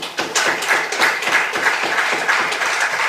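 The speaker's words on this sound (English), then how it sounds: "I can see the Lord Mayor clapping." The Lord Mayor claps in a hall, a dense, steady patter of hand claps that sounds like broad applause, close and fairly loud throughout.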